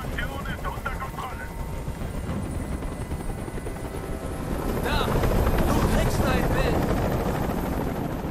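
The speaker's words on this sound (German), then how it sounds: "Dieser Helikopter soll verschwinden." A loud video game helicopter in Detroit: Become Human drones and thumps continuously, swelling louder midway, with people speaking over it.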